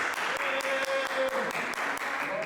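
An audience applauding a participant on a dating-game show, steady rapid clapping from many hands throughout, fairly loud and close, with a sustained tone and some voices mixed in underneath.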